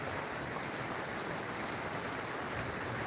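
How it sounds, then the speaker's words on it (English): Steady rain falling on a cold, rainy day, a dense continuous hiss with faint scattered drop ticks, constant level throughout with no voices. "It is raining."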